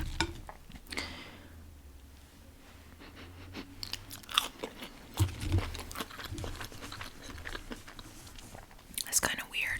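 Close, soft chewing and crunching of Burger King food dipped in marinara, with irregular bites and mouth sounds. Quiet whispering occurs between them.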